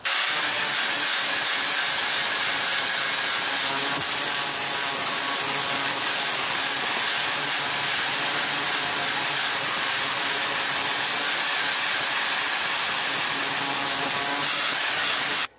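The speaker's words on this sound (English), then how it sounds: "another thing I sometimes use the flap discs for is to clean a blade that is extremely dirty" A grinder fitted with a flap disc cleans an extremely dirty, rusty blade, a loud, unbroken whining roar that holds steady for the whole stretch and then cuts off at the very end.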